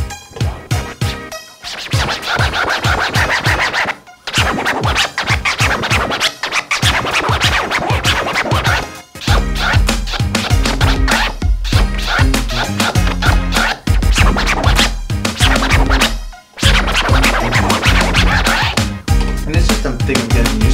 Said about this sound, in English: just show you how that one scratch sounds